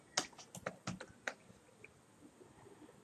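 Fingers type a name on a computer keyboard, tapping out a quick burst of close, faint clicks that thin to a few scattered keystrokes.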